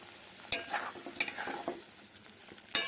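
Palak paneer gravy cooking in a pan, with a low bubbling hiss under several sharp metallic spoon knocks and scrapes against the pan.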